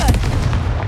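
A Confringo fire spell fired in the game Hogwarts Legacy hits as one loud, close, booming blast, followed by a short rumbling tail.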